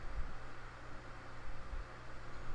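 An electric fan runs close by, producing a steady, even hiss of broadband noise with a low hum underneath and no other sounds.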